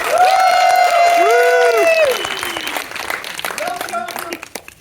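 An audience at a Critical Hit live show bursts into loud applause and cheering with whoops, then the clapping thins and tapers off into scattered claps.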